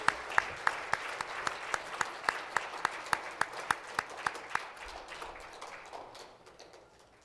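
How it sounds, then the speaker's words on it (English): Audience at a Seoul forum applauding the speakers, with a steady run of rhythmic clapping that is fairly loud and close at first, then fades into softer scattered claps. "would you please give another round of applause for our great speakers?"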